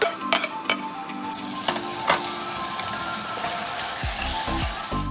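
Tomato, onion, mint, coriander and green chilli sauté in hot oil for chicken biryani, giving a loud, close sizzle. Stirring scrapes and clinks against the pan come and go over it.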